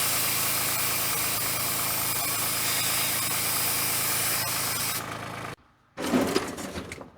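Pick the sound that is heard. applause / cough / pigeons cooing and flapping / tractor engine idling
tractor engine idling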